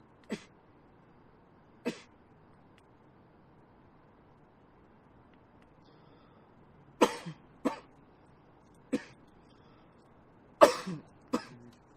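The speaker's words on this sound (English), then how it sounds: "He's like coughing his lungs out." A man coughing hard in separate harsh bursts, first single coughs then a cluster of heavy hacking coughs, close against a quiet background hum.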